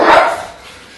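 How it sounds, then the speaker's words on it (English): Several dogs bark and pant in a loud, close burst at the start, then fade into a quieter rough breathing tail with no voices. "Dogs. So many dogs."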